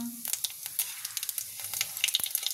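Whole spices and cumin frying in hot oil for a Bengali chana dal dish, a close, bright sizzle with scattered pops and crackles across a short stretch.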